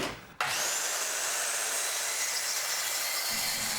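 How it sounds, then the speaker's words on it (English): A power saw rips through a wooden panel, cutting it to final length for a mobile woodshop tool cart: a loud, continuous whine-and-rasp that starts abruptly and holds steady to the end. "So here, just cutting down the final length that I needed so that I can start putting it together"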